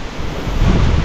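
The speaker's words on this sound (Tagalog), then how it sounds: "Ang lakas ng hangin." Strong typhoon wind roars in steady gusts, a loud broadband rush with heavy low rumble that swells toward the end, with no voices.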